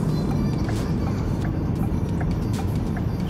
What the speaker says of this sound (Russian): Это вот звук поворотника.